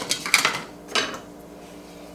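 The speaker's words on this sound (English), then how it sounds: "And then we're going to stir that up." A spoon scrapes and clinks against a bowl while shrimp scampi stuffing for stuffed mushrooms is stirred, giving a few close, uneven bursts of scraping and clatter.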